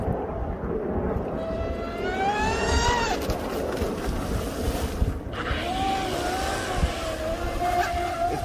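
An electric Delta Force 35 RC boat with a TP Power motor, 150 amp ESC and 6S battery whines high-pitched, rising and falling as it races past, with steady wind and water noise throughout.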